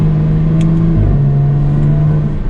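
A 2021 Jaguar F-Type R-Dynamic engine hums steadily at moderate revs while driving through sweeping turns, with a smooth shift in pitch partway through and constant road and wind noise.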